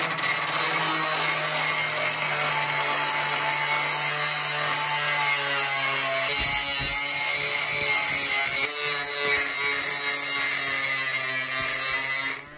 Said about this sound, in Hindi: अब चलिए इस रॉड को थोड़ा सा घिस कर चमका देते हैं।